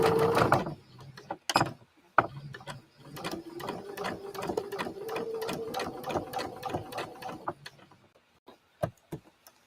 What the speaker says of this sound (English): I am just following and sewing directly on the sewn line for this set